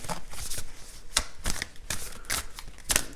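Tarot cards being shuffled and drawn close by, a series of quick riffling bursts and soft slaps at an uneven rhythm, with no talking.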